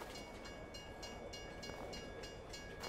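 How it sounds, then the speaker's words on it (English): A train pulls into a station in the Farming Simulator 22 video game, with faint, rhythmic clacking of the rail cars rolling steadily throughout and no voices. "We have arrived at the same time as Mr. Choo Choo Train"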